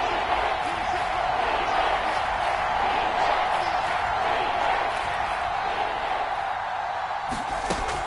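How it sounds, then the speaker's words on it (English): A football stadium crowd roars steadily ahead of a big third down, a broad, sustained wall of cheering that fills the whole stretch, with a commentator's voice running over it. "the crowd getting into it as we come up on a big 3rd down"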